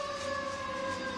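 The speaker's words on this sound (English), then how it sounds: "That's a siren." Emergency vehicle siren wailing outside in a steady, continuous tone, moderately distant and fairly faint, with no talking over it.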